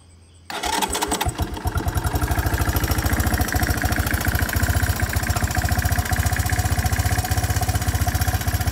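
A 1984 Honda 200ES Big Red ATV engine fires up from cold without choke and settles into a loud, steady, rapidly chugging idle that runs on evenly throughout.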